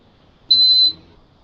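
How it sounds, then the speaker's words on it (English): A single short electronic beep from a circuit beeper, high and clear, lasting about half a second against near silence. "when we plug this in, we should hear a little beep"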